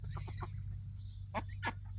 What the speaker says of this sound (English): And we'll close out with the ducks.